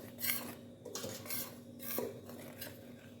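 A utensil works dry ingredients, with vanilla, in a bowl for sweet potato pudding, producing a run of rhythmic clinks and scraping strokes, close and fairly soft.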